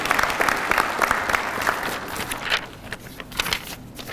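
An indoor audience at a town hall on youth violence claps steadily, a dense crackle of many hands that thins slightly toward the end.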